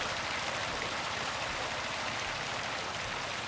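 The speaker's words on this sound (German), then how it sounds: "Zack, gehen wir hier rein, fluten das Ganze wieder." Water pours in to flood a long-grain rice paddy in Farming Simulator 25, a steady dense rushing wash like a stream that stays even and unbroken throughout.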